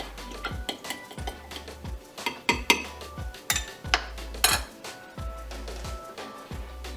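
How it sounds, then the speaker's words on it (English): Spoon stirring a shot of vodka with michelada mix in a cup, giving a quick run of bright clinks and taps against the sides at a steady rhythm, close and fairly quiet, with no talking. "give it a quick little mix"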